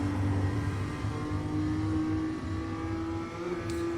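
BMW M2 CS engine held at full throttle in the iRacing simulator at Oulton Park, a loud, sustained, steady engine drone with a constant pitch and a slight dip near the end.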